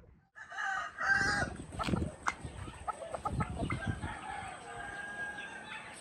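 Asil chickens, among them hens, crow and cluck on a farm as birds are readied for shipping, with a loud crow early and then scattered clucks and squawks.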